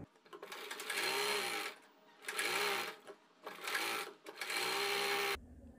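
A sewing machine stitches the lining of a western-style blouse onto the fabric in three or four quick bursts of rapid mechanical whirring, separated by short pauses, close and clear with no talking.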